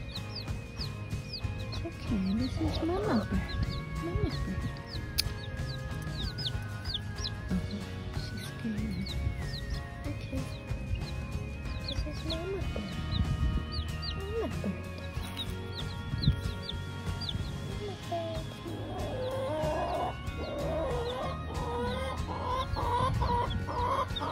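Polish chickens clucking with a mother hen: a steady, close mix of soft clucks and chirping peeps running continuously for over twenty seconds, with varied calls overlapping.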